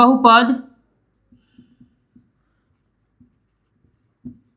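A pen writing during a Class 9 Hindi-medium NCERT maths lesson on polynomials: a short burst of speech, then sparse, faint scratches and taps spread out in quiet.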